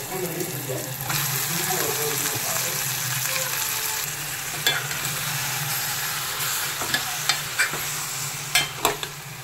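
Mutton pieces with turmeric fry for a mutton curry in a pan, with a steady close sizzle throughout and stirring scrapes, plus a few sharp clicks of the utensil toward the end.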